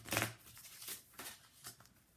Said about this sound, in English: Let's shuffle first for group two